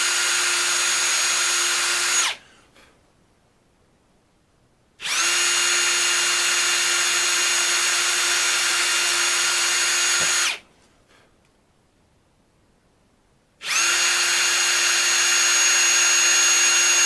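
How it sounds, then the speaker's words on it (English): An electric drill with a very small bit pre-drills screw holes in wood for a center console, running in three loud steady bursts separated by short pauses. "I'm going to grab a drill bit and we're going to pre-drill these holes"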